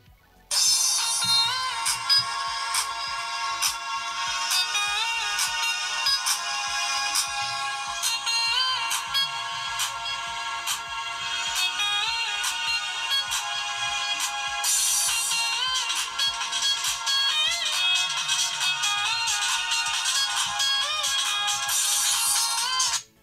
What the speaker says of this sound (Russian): давайте включим какую-то мелодию